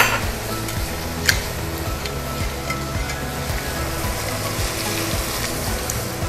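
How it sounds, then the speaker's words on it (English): A steak sizzles on a stovetop burner, a steady broadband crackle running throughout with a sharp clink near the start and faint utensil scrapes, close and moderately loud with no talking. "I'm gonna just put the steak in the burner back there too"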